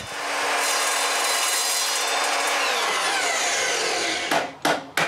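A length of threaded rod cut to about 40 cm in a woodworking shop, making a steady, continuous rasping saw or grinding noise for about four seconds, then a few short bursts as the cut finishes, with no speech.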